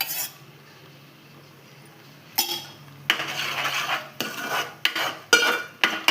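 A spoon scrapes and clinks against a pot while egg biryani ingredients with a spoonful of curd are stirred together. Quiet at first, then repeated bursts of close stirring and metal clatter, with no talking.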